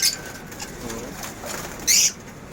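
Pigeons coo softly amid a busy background of birds, with a brief burst of sharp chirping near the end.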